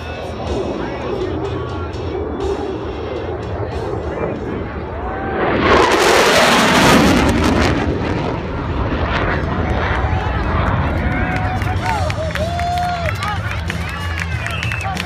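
F-16 Fighting Falcon jet making a pass at the 2015 Oregon International Airshow: a broad roar swells midway and then eases off, heard over constant crowd noise and people talking.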